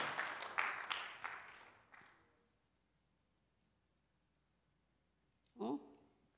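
A burst of clapping from a group fades out over about two seconds, followed by quiet and then a short spoken word.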